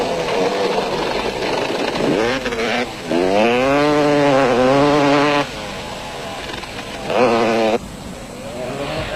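An off-road racing motorcycle engine is held at wide-open throttle during a 1991 desert off-road race in South Africa, its loud buzzing whine rising and falling in pitch through several close passes.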